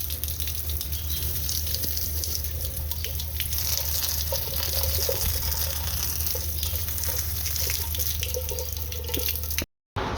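Tap water runs steadily from a faucet while its aerator is washed, a continuous close splashing hiss with small clinks that cuts off abruptly near the end.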